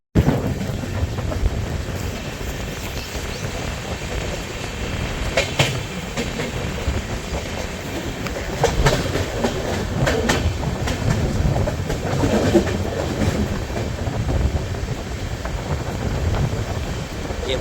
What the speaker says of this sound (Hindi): इतना प्यारा कर्व ले रही है ट्रेन हमारी।